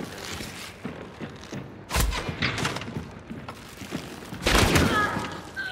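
Gunfire in the multiplayer shooter Hunt: Showdown, with several sharp shots and heavier blasts at uneven intervals, some closer and louder than others, amid in-game ambience and faint movement noise.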